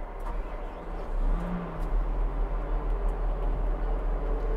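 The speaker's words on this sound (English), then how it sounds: "To start the drill, we're going to simply push the start button here," Diesel engine of an Epiroc SmartROC T40 surface drill rig starting after a button press, a low rumble that swells about a second in and settles into a loud, steady running drone.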